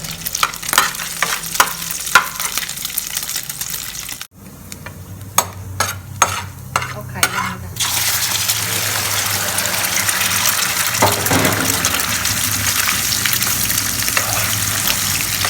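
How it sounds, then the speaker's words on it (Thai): Pork fat frying in a pan, starting with crackling pops and stirring scrapes, a brief pause, then a louder, continuous roaring sizzle as the fat renders, close and steady with no talking. "เดี๋ยวเรามาเจียวน้ำมันหมูก่อนนะคะ"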